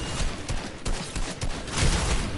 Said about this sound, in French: Y'a un autre mec qui me tire dessus.